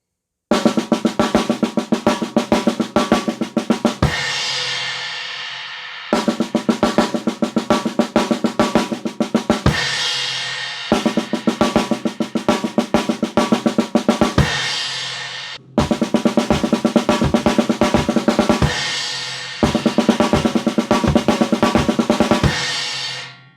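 Drum kit playing a verse pattern at a slowed tempo, in four repeated phrases of evenly spaced hits with cymbal wash, each phrase ending in a short pause, loud and close with no talking.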